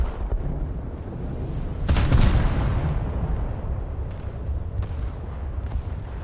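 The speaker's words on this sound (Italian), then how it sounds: "Cannoni principali, fuoco." Main guns of the American Alaska-class cruiser fire in War Thunder, a deep booming salvo swelling near the middle over a rumbling naval battle backdrop, with fainter distant reports afterward and no talk.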